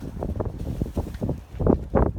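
Wind buffets the microphone in uneven rumbling gusts, fairly close and continuous, with no one talking.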